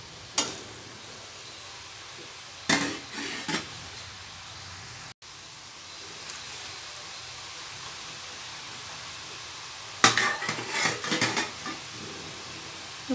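Murukku dough fries in hot oil with a faint, steady sizzle, broken now and then by a few brief clinks and scrapes of a ladle against the pan.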